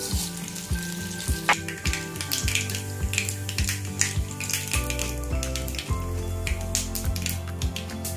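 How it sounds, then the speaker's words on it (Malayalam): Mustard seeds pop and splutter in a spoonful of melted butter for tomato rice, a dense continuous crackle with sharp pops, close and steady over soft background music, with no talking. "കടുക് പൊട്ടിക്കാം."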